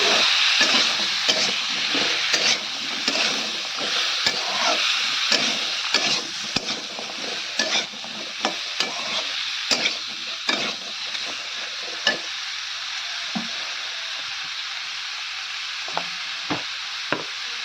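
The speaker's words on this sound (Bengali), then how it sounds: "আর দেবো একটু আদা রসুনের পেস্ট। ভালো করে নেড়ে দেবো।" Ginger garlic paste frying in a pan and being stirred: a loud, close, continuous sizzle with repeated scraping strokes of a spoon, easing to quieter hiss and scattered knocks in the last few seconds, no talk.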